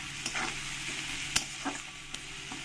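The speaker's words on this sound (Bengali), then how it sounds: "পেঁয়াজগুলোকে ভালো করে একটু লাল লাল করে আমি ভেজে নেব।" Onions frying in a pan with a little salt, a soft steady sizzle broken by several scraping stirs with a spatula, close and fairly quiet, no talking.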